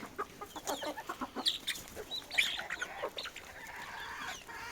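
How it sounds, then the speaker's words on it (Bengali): A flock of chickens clucks and pecks rapidly at feed, a busy pattering of beak taps with scattered cackles, fairly faint. "মুরগিগুলো খাবার খাচ্ছে"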